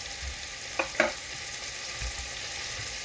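Garlic cloves, a whole head's worth, frying in a pan as the base for Puerto Rican-style beans give a steady soft sizzle, with two brief scraping stir sounds close by and no talking.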